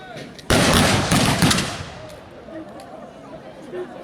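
A close, loud volley of black-powder muskets fired into the air by historical reenactment soldiers at a festival in Sully-sur-Loire bursts out in a dense, roaring blast that slowly fades, with crowd chatter underneath.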